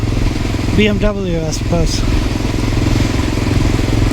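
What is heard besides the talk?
1988 Honda Dominator motorcycle engine revving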